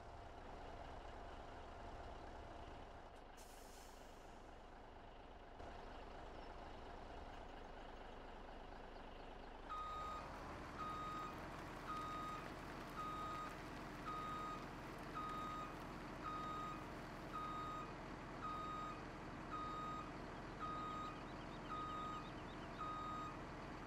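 A truck in Farming Simulator 17 reverses with evenly spaced electronic beeps over a low engine hum, the beeping starting about halfway through and repeating steadily to the end.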